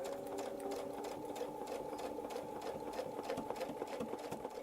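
A sewing machine stitches a quilted feather in a miniature Baptist fan design, running at a steady, fast and even rhythm close by, with no talk over it.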